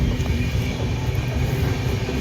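A speeding train rushes past at close range, a loud, steady roar of rumbling wheels and rail noise that fills the whole moment with no break.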